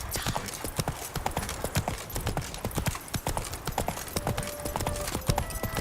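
Horse hooves gallop in a steady clip-clop rhythm through The Witcher 3: Blood and Wine, close and clear, with faint game music tones and a brief horse whinny in the background.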